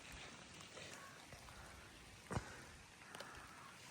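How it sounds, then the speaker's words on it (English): Rain falling outside, a faint steady hiss with a few scattered drips and one sharper drop, heard from a distance at low level with no talking. "Guys, outside is raining"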